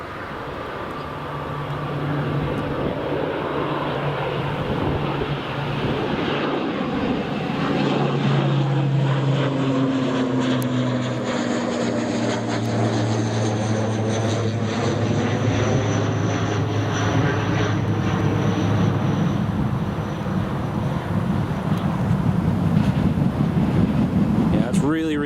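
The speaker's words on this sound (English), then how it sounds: "Oh, Aer Lingus is just departing." Aer Lingus airliner departing Newcastle Airport, a loud roar of engines that swells and sweeps in pitch as it passes, heard from a distance with wind noise and occasional talk.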